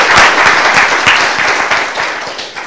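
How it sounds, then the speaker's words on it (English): A lecture hall audience breaks into loud, close applause, many hands clapping densely at first and gradually thinning and fading over a few seconds. "let's all applaud Mara so she can take it."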